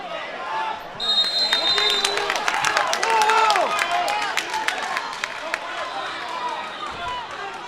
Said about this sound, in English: Hometown fans are cheering loud for the New Salem wrestler.